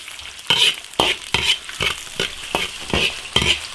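Ginger, spices, Sichuan pepper and chili crackle in hot oil in an iron wok, with a crisp frying sizzle and about eight rhythmic stirring scrapes close by, and no voices.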